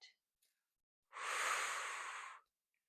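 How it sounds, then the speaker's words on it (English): One deliberate inhale through the nose during a standing resistance-band exercise in a cardiac rehab session, a close, airy draw of breath lasting over a second in near silence, with faint soft noises just before. "We'll take a breath in through our nose."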